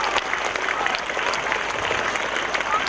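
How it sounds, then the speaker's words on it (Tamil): Audience at a Tamil debate forum applauding steadily, dense sustained clapping from a crowd filling the whole stretch at even loudness. "6 பேருக்குமே எல்லாம் நல்ல கைத்தட்டிருங்க ஒரு முறை."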